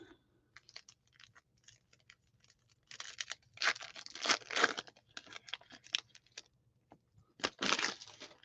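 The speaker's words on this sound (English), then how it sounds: "I'm just opening the packs" Baseball card blaster packs being torn open and foil wrappers crinkled nearby, scattered ripping and crackling bursts growing louder and denser in the middle and again near the end, with no talking.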